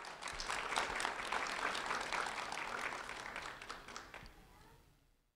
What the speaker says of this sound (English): a round of applause for Josiah Smith